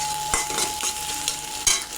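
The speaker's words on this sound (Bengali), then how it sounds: "এই যে ভুজিয়ার মতো আমি এই ডিমটা ভেজে নেব" Egg frying in oil in a pan for Bengali egg bhujia, stirred with a few spoon scrapes over a steady soft sizzle, close by with no talk.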